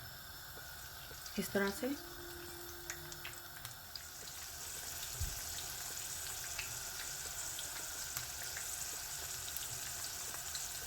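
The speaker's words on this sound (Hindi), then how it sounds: "ऑयल गर्म हो चुका है। अब इसमें मैं बैंगन डालूँगी" Aubergine frying in hot oil in a home kitchen, a steady broadband sizzle that runs continuously and fairly quietly, with someone speaking briefly near the start.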